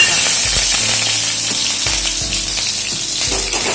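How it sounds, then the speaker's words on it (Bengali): Whole cumin seeds and slit green chillies crackle in hot mustard oil in a kadai, a loud close sizzle with bubbling pops and a few soft clunks of a utensil. "ফোড়নে দিয়ে দিচ্ছি গোটা জিরে আর দিয়ে দিচ্ছি কয়েকটা চেরা কাঁচা"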